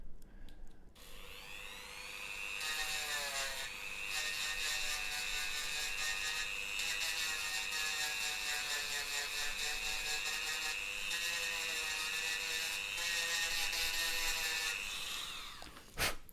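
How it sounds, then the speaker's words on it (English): Steady, continuous whirring drone of a power sander running for about fifteen seconds, loud and close, with a bright tonal whine and no talking. "Speed sanding."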